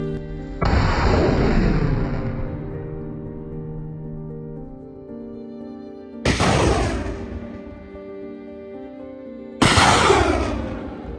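Three heavy artillery blasts from a gun firing on the Bakhmut front boom at spaced intervals, each a sharp loud crack followed by a long rumbling decay.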